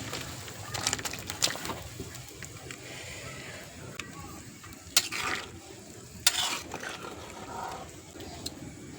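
Tomatoes going into a boiling fish curry of fresh tomato jhol with cup fish, giving a low bubbling simmer with soft stirring and a few brief sharper clatters, steady and close, with faint bird calls in the background.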